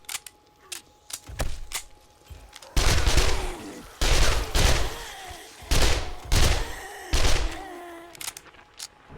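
SMG fire in 7 Days to Die during a horde night, coming in rapid sustained bursts separated by short pauses, loud and close with scattered thuds and groans between bursts.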